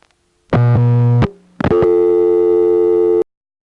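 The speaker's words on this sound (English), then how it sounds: "when he tries flashing, he just gets a new dial tone" Telephone line tones on a 1977 senderized step-by-step exchange in Monroe, New York: a loud steady tone cut off after under a second, a short gap, then a new continuous dial tone lasting over a second and a half.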